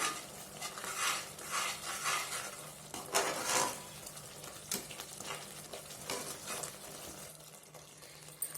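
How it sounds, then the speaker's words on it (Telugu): A spoon stirs turmeric and chili powder into a pot of cooking coriander rice base, giving repeated scraping swishes and occasional metallic clinks over a faint simmer, close by and with no talking. "ఒక హాఫ్ టేబుల్ స్పూన్ పసుపు ఒక వన్ టేబుల్ స్పూన్ దాకా కారం వేసుకొని మరోసారి కలుపుకుందాము"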